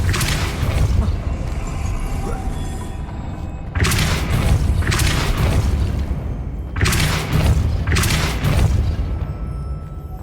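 Spell impacts in the Hogwarts Legacy video game, heard as loud booming blasts at roughly three-second intervals, each a broad burst that fades over sustained rumbling game ambience, with no talk.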